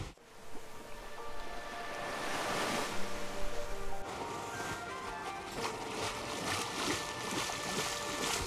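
Caribbean Sea waves wash and surge near the shore in Antigua, a rolling broadband hiss of surf with wind buffeting, swelling and easing without any voices.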